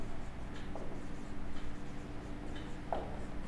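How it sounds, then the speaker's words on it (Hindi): Chalk or marker writing math on a classroom board in a quiet room, producing soft intermittent taps and short strokes spaced about half a second apart, faint and close. "इसके नीचे लिखेंगे हम लोग इस प्रकार"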